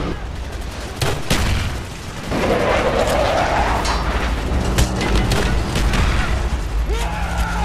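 A strafing run in the Call of Duty: Black Ops video game, with heavy booms and rolling explosions, a rising roar and scattered gunfire, all loud and continuous.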